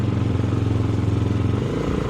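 A motorcycle rides along a mountain road in North Sikkim, on the way from Lachung to Yumthang valley; a steady, close engine drone runs throughout, dropping in pitch near the end as if the rider eases off, with no talk.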